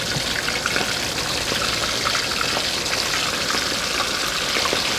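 Squid sizzles steadily in hot oil at medium heat, a dense, continuous crackling hiss with small pops throughout, close and constant.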